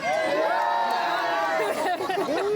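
An Edinburgh crowd roaring and chattering in a loud, continuous wall of voices and cheers, close and dense throughout.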